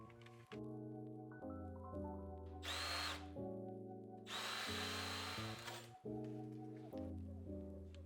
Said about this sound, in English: I drilled through the hole